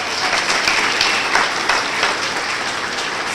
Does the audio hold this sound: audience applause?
yes